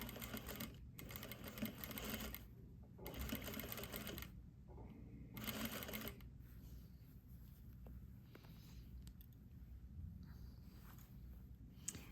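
A sewing machine top stitching along the yoke of a garment, running in bursts of steady stitching with short pauses between them, then falling to quiet handling noise.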